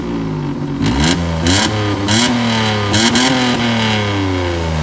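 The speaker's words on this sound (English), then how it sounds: "Listen to the little exhaust pipe they got on it." A small car engine revs up and down repeatedly close by, its raspy exhaust note rising and falling in quick bursts, from an exhaust back box that may have a hole.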